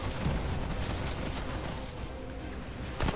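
Submachine gun fire in the game Remnant: From the Ashes, a dense, continuous rattle of rapid shots with no pause, loud and close, heard alone.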